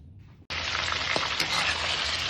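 Dried salted fish fries in a pan for a sweet and sour dish. After a brief quiet start, a loud, dense sizzle bursts in and holds steady and close until the end, with no talking.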